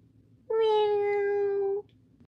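A single clear, drawn-out kitten meow, about a second long, close and loud against a quiet background in a narrated children's story.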